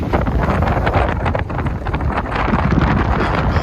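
Steady, loud wind buffeting the microphone on the Portsmouth seafront after Storm Eunice, a continuous roaring rush with gusty fluctuations throughout.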